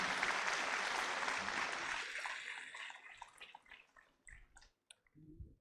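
An auditorium audience claps, a dense burst of applause that thins after about two seconds into scattered fading claps and then goes quiet.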